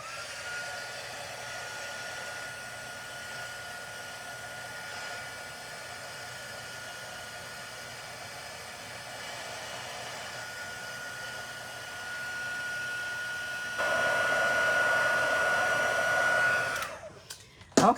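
A heat embossing tool blows hot air for card making, a steady close whooshing drone that holds for a long stretch, swells louder near the end, then cuts off with a few clicks.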